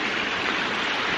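A rain-swollen creek rushes steadily after heavy rain, a loud continuous wash of flowing water close by with no voices.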